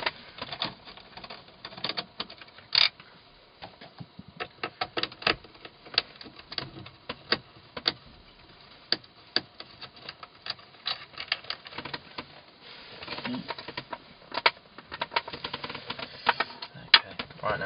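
Screws being removed from either side of the head unit in a BMW E46 dashboard, giving a run of small, close clicks and scraping ticks with irregular rhythm across the whole stretch.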